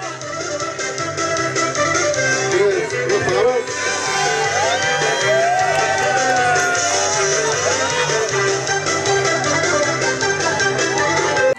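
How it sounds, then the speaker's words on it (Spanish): At a local team event in San Jerónimo Silacayoapilla, Oaxaca, Mexico, a crowd cheers and shouts loudly for a young player. The noise is a continuous swell of voices and whoops that carries through the whole stretch. "¡Bravo, bravo, bravo! Aplauso para este joven también."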